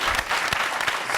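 Audience applause for a musician on a French-language show, a brief, full burst of many hands clapping, close and loud, with occasional stronger individual claps.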